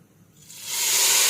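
Green chilli tadka of hot oil poured into Lahori dal, rising from quiet into a loud, steady sizzling hiss that holds at full strength to the end.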